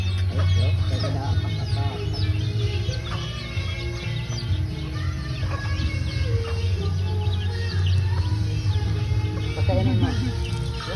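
Chickens cluck and call steadily at close range while being fed one morning in a rural province of Leyte, over a constant low hum, with people talking intermittently.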